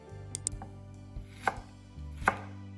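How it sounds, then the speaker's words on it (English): A knife chops an onion into wedges on a cutting board: a few sharp, close, distinct cuts at irregular intervals over a low steady background hum, with no talking. "Cut the onion in half, and after you can cut the onion into wedges"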